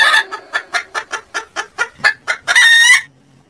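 A hen clucks in a quick, loud, even series of about a dozen calls, ending in a longer drawn-out squawk, close and clear with no other sound.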